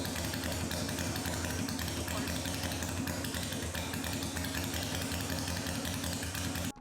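An old Honda motorcycle engine, just kick-started on the first try and leaking oil, runs steadily at a close, loud, rough idle with a dense low rumble, then cuts off abruptly at the very end.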